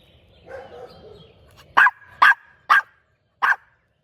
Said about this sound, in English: let me see if I can stop this barking